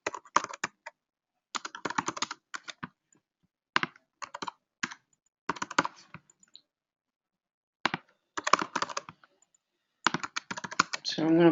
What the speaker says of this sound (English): I can type in his email, his contact address